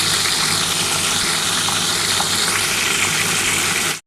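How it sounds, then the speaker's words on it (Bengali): Ground mustard and green chili paste with sour yogurt goes into hot oil for a hilsa fish curry, giving a loud, constant, close sizzling crackle for about four seconds before stopping abruptly, with no talking. "এবার এই তেলের মধ্যে যে মশলাটা বেটে রেখেছি তোমরা তো দেখে নিয়েছো, সর্ষের সাথে কাঁচা লঙ্কা বেটেছি, সেই মশলাটা দিয়ে দেবো আর টক দইটা দেবো।"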